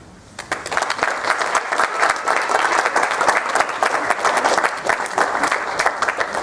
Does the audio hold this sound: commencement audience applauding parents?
yes